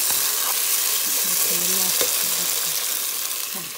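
Onion and tomato fry in a pan for a Somali bean and cabbage dish, giving a steady, close, crackling sizzle throughout, with a faint voice murmuring underneath.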